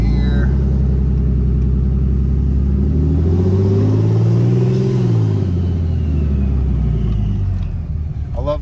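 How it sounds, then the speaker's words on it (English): Cummins diesel engine with a variable-geometry turbo and its grid heater deleted, revving up in a deep close rumble that climbs and falls over several seconds while the turbo spools with a rising whine. "I love the sound of the VGT once it starts getting going."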